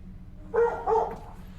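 A dog inside a house gives two quick muffled barks in close succession, heard from a short distance against a low background rumble.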